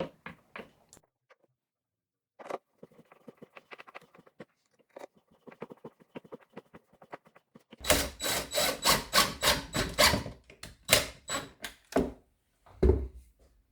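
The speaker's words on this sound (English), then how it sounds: "I've punched and pre-drilled the frame to hold these picture hanging brackets, and I'm just putting them in by hand." Screws driven by hand into pre-drilled holes in a wooden picture frame to fix hanging brackets, with faint scattered clicks and creaks, then a run of loud rhythmic rasping grinds as a screw bites into the wood, close up.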